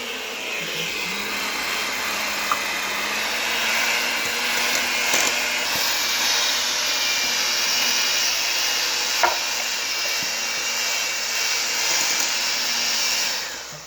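An electric mixer beats cookie dough with all-purpose flour for cream cheese cookies, giving a steady, close whirring drone. It holds the same level throughout, with a few faint clicks and no talking, then stops near the end.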